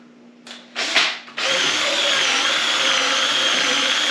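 A power drill fitted with a soft brush is used on skis during tuning and waxing; after two brief spin-up bursts, the motor settles into a steady, loud whine held to the end.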